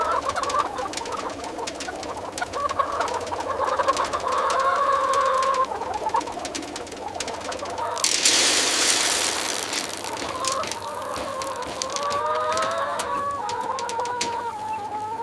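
Broiler chickens cluck in a crowded factory farm, a dense chorus of overlapping clucks and calls near the listener, with a brief burst of hissing noise midway.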